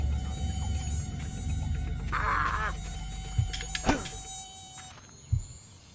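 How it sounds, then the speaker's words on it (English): Wasps in Fable Anniversary give off a steady high insect buzz with a thin whine running through it, and brief game hits and thuds break in over the top. "Let's kill some wasps"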